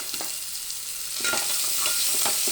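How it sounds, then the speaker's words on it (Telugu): Green chilies fry in hot oil with a steady, bright sizzle, growing a little louder partway through as a utensil stirs them in short scraping strokes. "ఈ పచ్చిమిర్చీలు నూనెలో బాగా గోలితే దాంట్లో ఉన్న ఘాటు బయటికి వస్తుంది"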